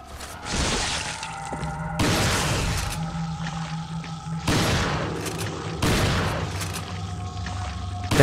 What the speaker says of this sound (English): I am going to shoot him